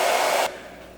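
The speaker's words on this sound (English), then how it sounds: "So you might need to use the hairdryer for about 25 to 30 minutes." A hotel room hairdryer is used as a makeshift cooking heater, blowing with a loud, steady roar that cuts off abruptly halfway through and leaves only a faint background hum.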